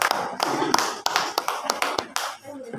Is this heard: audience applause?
yes